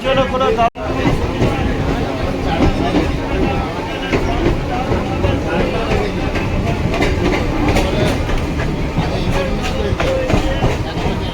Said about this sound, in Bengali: সোনারপুর থেকে ট্রেনটা ছেড়ে দিয়েছে।